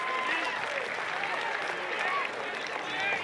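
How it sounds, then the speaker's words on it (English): A college baseball crowd at North Carolina vs Clemson applauds with a steady, distant wash of clapping and murmur beneath a commentator's talk. "Now the crowd's going to get behind Vesey here with the bases loaded and 2 away."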